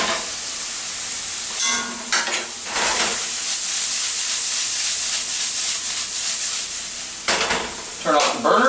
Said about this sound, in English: We're just going to finish this corn with a little bit of the oil